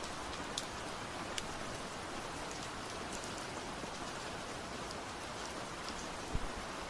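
Light rain falls steadily on a forest at night, a soft, even hiss of drizzle with a few scattered drop ticks, faint and alone.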